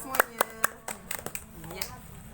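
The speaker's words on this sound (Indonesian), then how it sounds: "Tepuk tangan untuk Maulia semuanya." A few scattered hand claps from a small group in a classroom, around five or six sharp claps spread over a couple of seconds, fairly close, with faint talk underneath.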